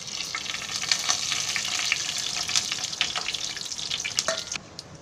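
Whole garam masala spices and cumin seeds sizzle steadily in hot oil in a pan for a broccoli veg biryani, a close, continuous crackling fry with brief louder pops, no voices.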